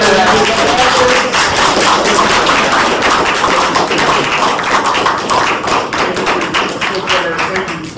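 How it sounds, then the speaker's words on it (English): A lecture-hall audience claps hard and fast in a contest to be loudest, a dense, steady wall of close hand claps with some thumping that holds for the whole stretch before easing slightly at the end. "I want to see who can clap louder"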